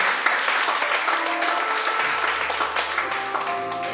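A church congregation applauding and acclaiming, sustained dense clapping from a crowd with voices rising underneath and musical tones entering partway through.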